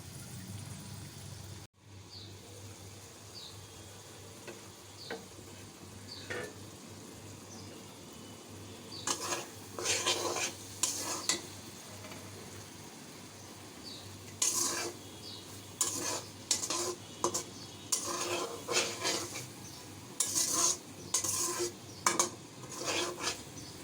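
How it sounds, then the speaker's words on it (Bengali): Lentil dal with water simmering in a pot alongside okra, a spoon scraping and stirring in repeated bursts over a constant low bubbling hiss, fairly close and without talk. "এগুলো ভালো করে সিদ্ধ হোক আমি আবারও রেখে দিচ্ছি"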